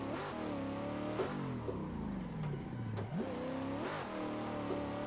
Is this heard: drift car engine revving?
yes